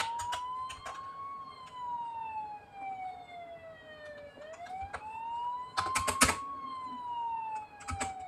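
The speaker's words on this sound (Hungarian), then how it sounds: "Olyan, mint egy sziréna, rá van írva, hogy admin" Close and clear, an admin car siren in a video game wails in slow rising and falling sweeps while computer keys clatter in short bursts over it.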